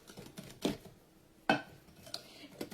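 A spoon or whisk mixing pecan pie filling with flour in a bowl, with a few distinct clinks against the bowl spaced apart over quiet, soft stirring.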